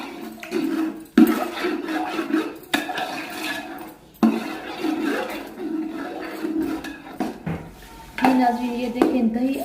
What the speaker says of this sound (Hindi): ये देखिए इस पेस्ट को आप अच्छे से मिक्स कर लेंगे दही के साथ।